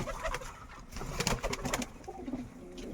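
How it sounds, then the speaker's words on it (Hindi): Fancy pigeons, including Lotan and Black Siraji breeds, coo softly in a busy, reverberant loft, with rustling and fluttering noises mixed through the low murmuring calls. "बहुत सारा फैंसी कबूतर है यहाँ पर।"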